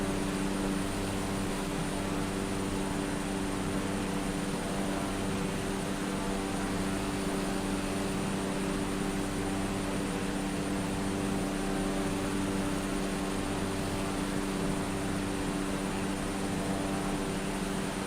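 Cessna 208B propeller plane engine droning at cruise in Microsoft Flight Simulator over Alaska, a loud, steady, unbroken hum with tonal propeller harmonics and no voices.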